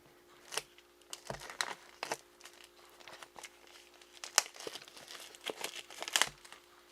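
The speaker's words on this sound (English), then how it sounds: "First, I'll have to cut my way through the plastic." Plastic wrap on a sealed product box being cut and pulled away: irregular crinkling and sharp tearing bursts, close and moderately loud, with no speech.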